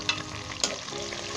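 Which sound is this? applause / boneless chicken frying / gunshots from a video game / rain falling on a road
boneless chicken frying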